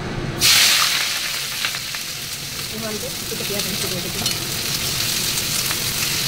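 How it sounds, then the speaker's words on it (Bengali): Onions drop into hot oil in a wok with a sudden loud sizzle burst, then settle into a steady crackling fry with faint stirring sounds close by. "দেখো তেল গরম হয়ে গেছে। আমি এবার পেঁয়াজ দিয়ে দিচ্ছি।"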